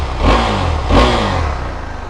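A stock-muffler KTM 390 Adventure 2020 motorcycle engine is blipped twice in quick succession, each rev rising sharply over a steady mid-pitched idle, close and fairly loud with no voices.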